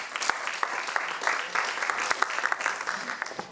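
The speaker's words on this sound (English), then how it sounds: "Can I get a round of applause for Dr." An audience at a balneology congress gives a round of applause for a speaker, dense steady clapping from many hands with a few sharper claps standing out, moderately loud throughout.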